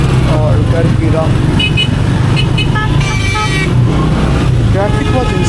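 Motorcycle ride through heavy, insane traffic on McLeod Road in Lahore, with engines droning close by, horns tooting repeatedly and the busy roar of cars and bikes all around.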